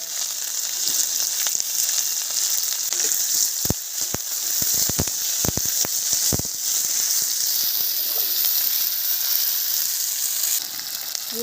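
Whole cumin, whole garam masala and bay leaf fry in hot oil for a Bengali rui fish-head curry, giving a loud, steady hiss broken by a cluster of sharp crackling pops in the middle.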